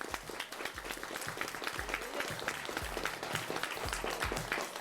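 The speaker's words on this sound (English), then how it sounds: "Round of applause." Audience applause for the 5A quiz bowl runners-up from Magnolia High School, a steady, dense wash of many hands clapping that continues throughout with little variation.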